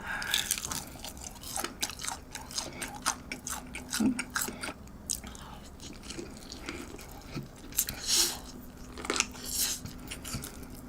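McDonald's McWing fried chicken wings being eaten close up, with repeated crisp bites and crunchy chewing in an irregular rhythm, along with small wet mouth sounds and no talking.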